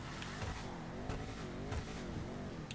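A car engine revs continuously in the video game GTA V, an Imponte Arbiter GT driven off road, its pitch rising and falling as it accelerates, loud and close throughout.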